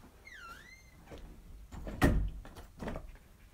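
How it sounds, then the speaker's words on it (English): A door being closed indoors: a high chirping squeak early on, then a single solid thud, followed by a few softer knocks and rustles. "Close the door."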